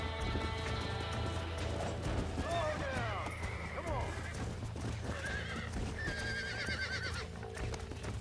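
Lassoed horse in the Red Dead Redemption video game neighing and whinnying repeatedly over steady hoofbeat clip-clop, with loud, near calls rising and falling across the span and continuous game background sound underneath.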